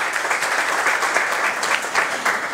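Conference attendees applaud as an actor is introduced, a steady moderate patter of many hands clapping with small surges, heard alone at medium distance.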